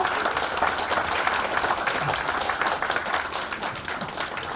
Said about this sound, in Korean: 힘내시라고 박수 한번 부탁드립니다.